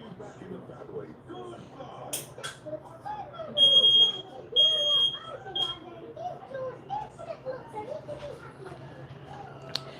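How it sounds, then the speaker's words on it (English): A home smoke alarm going off in short, shrill high-pitched beeps that come in two quick bursts, heard over a person talking and some background chatter. "my fire alarm going off and I don't know why."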